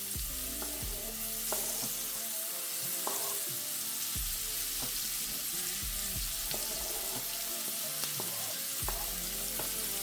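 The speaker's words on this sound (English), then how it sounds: "the guys are going with 2 medium onions, and I'll saute these" Onions, ginger and spring onions sauté in a pan for Jamaican curry salmon, a continuous crackling sizzle with occasional stirring scrapes running the whole time at even volume, no voices.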